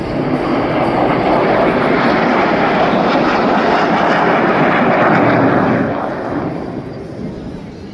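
A MiG-17 jet fighter roars past at an airshow, a loud broad rushing jet noise sustained for several seconds before fading away toward the end.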